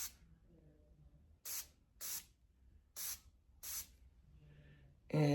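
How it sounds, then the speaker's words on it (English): Piercing aftercare fine mist spray bottle, four short, sharp hissing sprays in a steady rhythm, close and clear against a quiet room, with a louder burst at the end. "I spray it, enough to where it's going to get in there."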